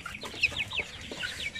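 Oriental breed chickens, including Shamo-type birds, give a short run of quick, high clucks and chirps close by, several notes in brisk succession over faint background noise.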